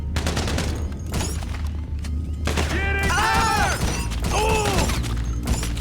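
Rapid gunfire rattles in GTA Online as a helmeted head of security is shot repeatedly, dense bursts of shots overlapping with pinging ricochet-like tones and mechanical clatter over a low background rumble.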